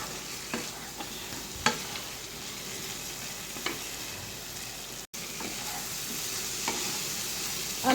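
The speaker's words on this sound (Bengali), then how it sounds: "আলুটাকে দিয়ে ভালোভাবে একটু নেড়ে নিতে হবে।" Potatoes are stirred into a fried masala base for a katla fish curry, a constant sizzle punctuated by occasional scraping taps of the spoon against the pan, close and steady without speech.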